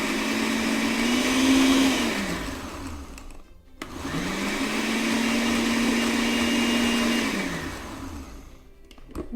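A kitchen blender whirs loudly as it purées soaked ingredients with a little water, running in two continuous bursts with a brief stop between them and a steady motor tone that shifts as the load changes.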